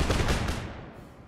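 A short burst of massed musket volleys from an Empire Total War battle crackles loudly and close, then quickly tails off into a fading rumble.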